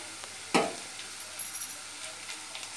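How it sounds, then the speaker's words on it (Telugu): Onions softening in a pan for a masala curry, a faint steady sizzle with one sharp utensil tap near the start and a few light stirring sounds after it. "దీనివల్ల ఉల్లిపాయలు బాగా మగ్గుతాయి."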